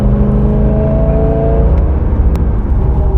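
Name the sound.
Corvette C6 Z06 cruising in fifth gear at Nürburgring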